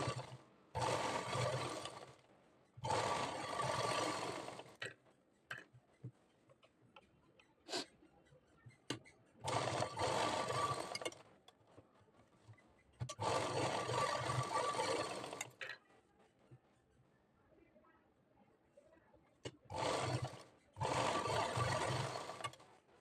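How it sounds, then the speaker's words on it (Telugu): Sewing machine stitching the neck of a blouse in several bursts of steady mechanical whirring, a few seconds each, separated by quiet pauses with faint clicks and handling sounds; close and fairly loud. "ఇప్పుడు 3 డాట్స్ కూడా నీట్గా కుట్టుకోవాలి."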